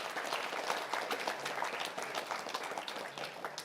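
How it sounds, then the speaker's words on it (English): A hall audience at a coaching institute's JEE Advanced results and success meet breaks into dense, sustained applause honouring a ranked student, the clapping loud and steady throughout with no voices over it. "Huge round of applause, please."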